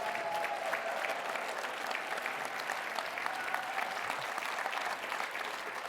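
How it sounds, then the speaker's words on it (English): Sustained round of applause at a volunteer luncheon for new Volunteer Leadership Council members standing up, steady even clapping from a large seated audience heard at a moderate distance. "They very much deserve that round of applause."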